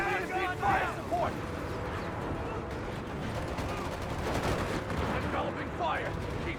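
Gunfire crackles in the Company of Heroes 3 video game during a battle in an Italy campaign, with bursts and scattered shots at moderate distance under soldiers' radio-style voices and background battle noise.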